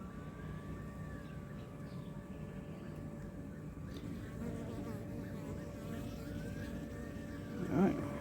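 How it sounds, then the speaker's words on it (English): Dense, droning buzz of many bees surrounding the listener during a winter hive inspection and honey harvest, with individual insects whining past, plus a brief soft knock near the end. "Lots and lots and lots of bees."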